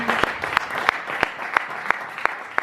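A church congregation claps to acclaim Jesus, loud, regular rhythmic applause with sharp, evenly spaced accents roughly every third of a second, and no voices over it.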